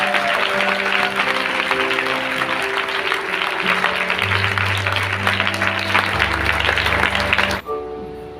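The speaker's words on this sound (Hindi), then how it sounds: "ताली बजाना तो अच्छे से बजाइए।" Congregation applauding in a church, a dense continuous wash of clapping running for several seconds under sustained keyboard-like tones, cutting off abruptly near the end.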